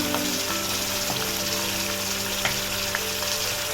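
Garlic paste hits hot oil in a pan while cooking rogan josh, giving a steady, close crackling sizzle with scattered pops and no talking.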